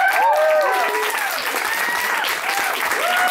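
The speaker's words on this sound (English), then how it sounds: "So let's give her another round of applause for sharing those words." Loud, close applause from an audience after a speaker finishes, dense clapping filling the whole stretch while voices carry over it.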